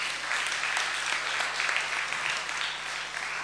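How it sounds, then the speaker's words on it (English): Steady audience applause at a talk on story as pedagogy, dense continuous clapping at even loudness across the whole stretch with no voices over it. "Can we give him a round of applause?"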